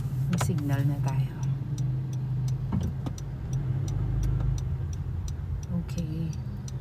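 Car turn signal ticking steadily and evenly inside a car waiting at a street corner, heard as a series of sharp, regular clicks over low engine and road hum while someone talks.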